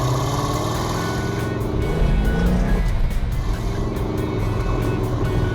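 A 1969 Dodge Super Bee with a 440 six-pack and four-speed revs hard, its loud, close engine roaring steadily and rising in pitch, with no talking over it.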